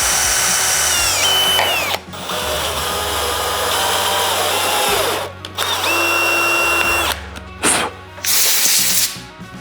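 Power tool cutting two M5 threads, a loud, close whining drill motor running in long sustained stretches, briefly stopping and restarting several times with pitch shifts as it bites into the work.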